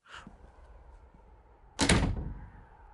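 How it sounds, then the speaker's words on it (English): A wooden cabin door in the video game Slay the Princess opens with a brief faint creak, then a sudden loud thunk that fades into quiet. "You open the cabin door."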